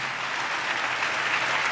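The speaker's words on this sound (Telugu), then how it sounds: "ఆయనకి చప్పట్లు కొడుతూ స్తోత్రాలు చెప్దాం" A church congregation at a Christmas service claps continuously in praise, a dense, even wash of many hands with no distinct voices.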